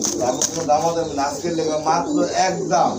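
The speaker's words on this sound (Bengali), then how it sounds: "আরেক জোড়া ঝর্ণা শাটিন কবুতর এখানে খুবই সুন্দর" A pair of Jharna satin pigeons at a pigeon sale cooing in soft, repeated throaty bursts close by, heard under someone talking over them.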